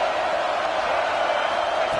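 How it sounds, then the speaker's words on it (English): Steady crowd roar fills a football stadium early in a game after an interception on the opening drive, a dense, unbroken wash of cheering voices holding at even loudness throughout. "This crowd bringing the energy and noise early"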